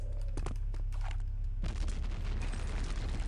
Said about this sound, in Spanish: Cuidado, granada en la puerta.